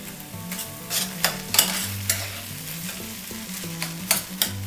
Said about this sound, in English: We're just going to give them a little stir.